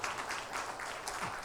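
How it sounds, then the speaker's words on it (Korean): A church congregation at a Sunday worship service claps in thanks, a soft, even patter of many hands heard faintly at a distance, without talk over it. "여러분 감사의 박수 하겠습니다"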